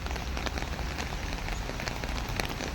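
Heavy rain pours down in Hong Kong, a dense, steady hiss of drops drumming on surfaces without a break, close and loud with no voices.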